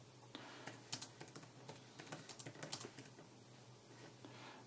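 Quick bursts of soft keyboard taps on a Belkin Ultimate Keyboard Case for iPad, clustered into uneven runs with short pauses, close and fairly quiet, with no talking.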